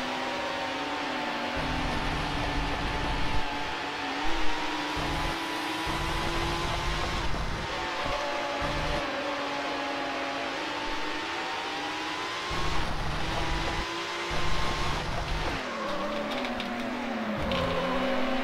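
Steady car engine drone from the racing game Need for Speed Hot Pursuit 2 during an online race, with shifting gear pitches and brief surges, holding at a moderate level throughout with no speech.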